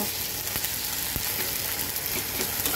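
Onion and ginger fry in a pan for a Bengali pabda fish in mustard dish, giving a steady, close sizzle with a few soft stirring clicks and no talk.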